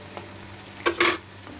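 Chicken dropped into a pan of frying onion and garlic, giving a quick burst of loud sizzling with a stir and a clink of the pan, then a brief crackle that settles back to a quiet fry.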